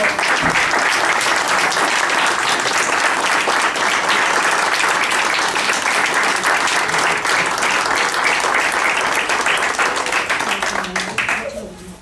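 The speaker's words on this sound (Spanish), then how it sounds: "para él pido un aplauso bien grande" Loud, sustained applause from a large crowd at a book launch, dense steady clapping that fades out in the final second.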